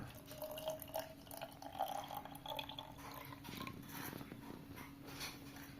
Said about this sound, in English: Fill 3/4 of the conical flask with water